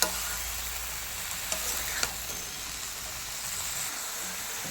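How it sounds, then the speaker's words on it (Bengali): Vegetables seasoned with turmeric and chili sauté in a pan with a soft, steady sizzle and hiss, broken by a few brief scrapes and taps of stirring, fairly quiet and with no talking. "আবার একটু কষিয়ে নিচ্ছি।"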